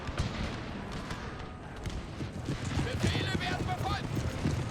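Cuirassier cavalry horses advancing across a Total War battlefield set in the Thirty Years' War, a dense rumble of hooves with clattering clip-clop and scattered distant gunfire thumps, steady and moderately loud throughout.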